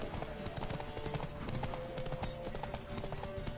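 A horse galloping in The Witcher 3: Wild Hunt, rapid steady hoofbeats up close with some faint game sound and a voice urging the horse on.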